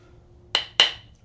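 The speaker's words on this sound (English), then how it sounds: "So I'm going to hammer this in" A hammer gives two sharp, close metallic taps to seat the blade of a wooden moulding plane, the blows about a quarter second apart, ringing briefly in a quiet room.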